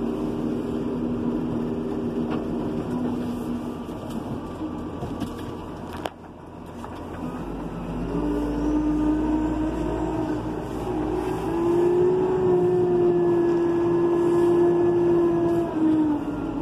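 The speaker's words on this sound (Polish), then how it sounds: "Ciągnik na czwartym biegu i na czwartym przyspieszaczu" A Renault Ares 656 RZ tractor from 2004 drives in fourth gear with the range booster engaged, its engine humming steadily at reduced revs, rising somewhat in pitch and loudness toward the end, with no talk over it.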